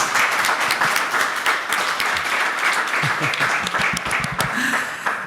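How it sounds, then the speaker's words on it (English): Audience applause for the panelists at the close of the OCRE final event, loud and dense with sharp individual claps, continuing steadily throughout. "Please give a round of applause for our panelists."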